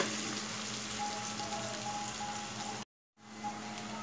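Chopped onion frying in a pan until deep red, for chicken kosha: a steady, dense sizzle close up, cut off abruptly by a brief silent gap before the frying resumes.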